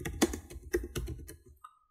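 Keys clacking on a computer keyboard while a prompt is typed, a quick irregular burst of close, crisp taps that slows and then stops.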